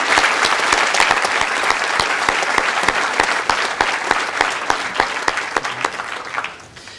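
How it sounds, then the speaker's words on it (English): A school recognition assembly audience gives a sustained round of applause for students, steady dense clapping from a large crowd that continues throughout and tapers slightly at the end. "I want to offer a warm Cardigan round of applause."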